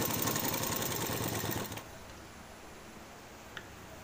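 A sewing machine stitches two layers of kurti fabric, a fast, dense mechanical whir that runs for about a second and a half and then cuts off, leaving quiet room hiss and a single faint tick.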